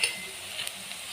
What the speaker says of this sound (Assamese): আদা নহৰু পেষ্ট দিছোঁ। এতিয়া আৰু অলপমান সময় চিমত লৈ ভাজি দিলোঁ।